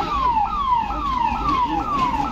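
An ambulance siren in Delhi's Rajendra Nagar during a coaching-centre flood wails in a steady series of falling sweeps, about five cycles, loud and continuous over a low traffic rumble.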